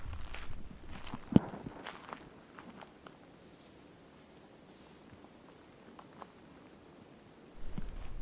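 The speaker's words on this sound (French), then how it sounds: "Des sons assez stridents d'insectes qu'on n'entend pas en Europe" A piercing, steady high-pitched drone of tropical insects fills an outdoor hillside path, continuous throughout, while scattered footsteps crunch nearby with a sharp louder step early on and more footfalls near the end.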